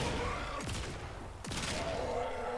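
Catchmoon Kit-gun shots in the video game Warframe, two loud, close blasts about a second apart, each with a sweeping, falling tail over a busy game soundscape.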